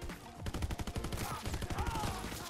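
Sustained bursts from a GPMG light machine gun in Call of Duty WW2, rapid rhythmic automatic fire, loud and close, with brief gaps between strings of shots.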